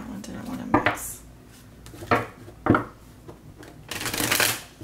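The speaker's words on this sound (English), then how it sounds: "A few more shuffles here." Oracle cards are shuffled by hand in a few separate bursts of crisp riffling and slapping, close up and fairly loud, ending in a longer flurry of shuffling.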